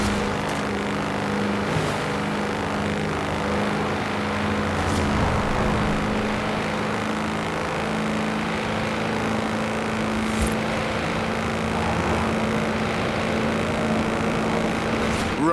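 Farm tractor driven flat out in the racing game Forza Horizon 4, a steady loud engine drone with a continuous low hum that holds throughout, with no talk.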